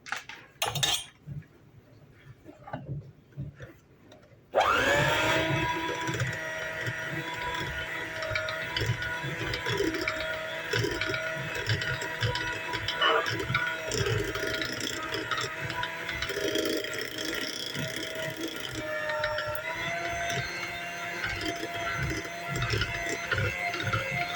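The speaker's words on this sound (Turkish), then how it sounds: "Şimdi mikserimde gene iyice çırpacağım." Electric mixer whipping cream with whipped-topping powder for a Malaga cake: a few quiet clinks, then the motor kicks in loud and whirs steadily with rattling beaters against the bowl.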